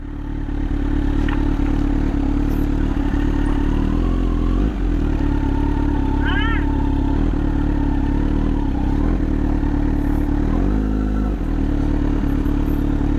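A Kawasaki Z900 motorcycle engine idles steadily and loudly nearby, a continuous low rumble with occasional clattering and faint high whines.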